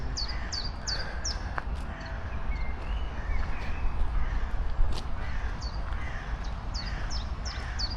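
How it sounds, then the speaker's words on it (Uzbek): Several crows caw in repeated, hoarse calls, some near and some farther off, over steady outdoor background noise by water with a small island. "Hamma joyda qarg'alar parod qiladi."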